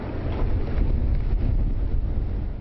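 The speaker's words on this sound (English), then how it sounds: "the gusts are whipping the snow off the fields" Steady, heavy winter storm wind roars and buffets the microphone in low rumbling gusts, whipping snow off open fields along Route 1 near Ellsworth, with no voices heard.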